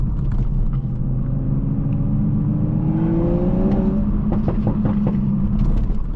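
A 500 hp Toyota Supra engine revs hard on a night drive, its rising pitch climbing and then falling back over a steady, loud engine rumble heard from inside the car.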